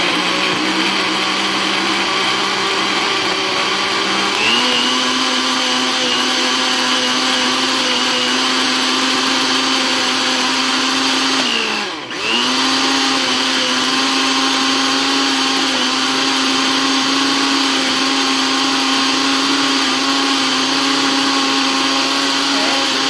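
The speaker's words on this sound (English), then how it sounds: "I'm going to give this a good blend." A kitchen blender whirs loud and steady while blending a homemade pest repellent mixture, pitch stepping up after a few seconds, dipping briefly in the middle, then running on evenly with no talking.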